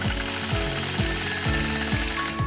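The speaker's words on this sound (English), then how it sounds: "So I'll just start out by stitching an angled line." Sewing machine running steadily while stitching an angled quilting line, a loud, close mechanical whir with a regular repeating thump of the needle, no talking.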